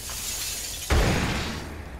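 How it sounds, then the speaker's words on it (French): A grenade goes off in Rainbow Six Siege with one sudden loud burst, a sharp broadband crack followed by a heavy rumbling tail that slowly fades against steady background game noise. "Je lance une grenade"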